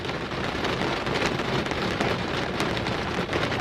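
Steady heavy hail drums on a Tesla car's body with dense crackling patter throughout, loud and close, heard from inside the car, no voices.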